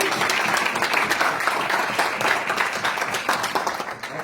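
Sustained applause from a conference audience at an international United Nations event, a dense, steady wash of many hands clapping at close range with little variation throughout.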